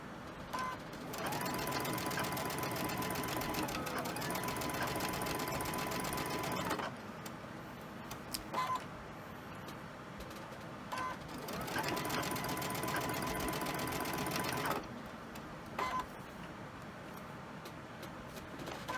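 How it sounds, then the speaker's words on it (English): Sewing machine stitching quilt fabric at a regular 2.5 stitch length, a steady close whirring hum in three long runs separated by short pauses with small clicks. "I'm going to go ahead and I'm going to sew"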